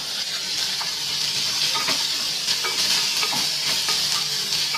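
Green chilli, ginger and garlic fry in a pan for a restaurant-style matar paneer curry, giving a steady, loud, close sizzle with light scraping stirs throughout and no talking.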